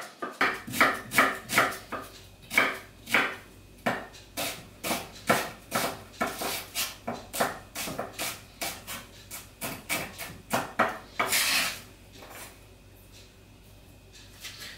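Knife chopping onion on a board for a frittata, a long run of close, crisp, regularly paced cuts with brief pauses, ending in a short scraping sweep before quiet.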